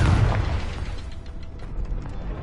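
A Confringo fire spell explodes in Hogwarts Legacy, one heavy boom at the start that fades into rumbling debris and small crackling pops.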